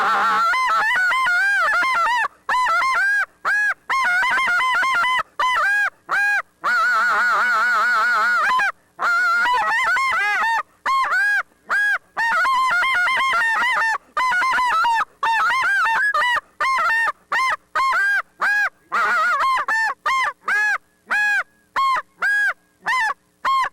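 Acrylic goose call with a flared insert blown loud and resonant, rapid strings of honks and clucks mixed with a lower murmur passage, then sharp single goose calls in quick, broken rhythm, close and alone.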